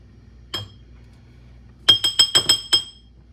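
Cornstarch and liquid are stirred in a glass for beef stew, heard as one light clink, then a pause, then a quick run of about six sharp spoon-on-glass clinks in a quiet kitchen.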